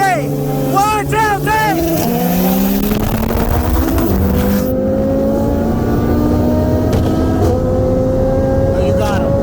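A built 2018 Audi TTRS with an IMS850 turbo kit on E85 drag racing a built 2003 Subaru WRX bugeye with a PT6466 turbo, loud engines revving through rising gear pulls close by, with people talking over them.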